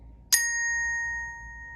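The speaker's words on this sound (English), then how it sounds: "Then the bar will ring on its own." Orchestra bells struck once with a mallet, giving a sharp, bright strike that leaves a clear metallic tone ringing on alone and slowly fading, close and fairly loud.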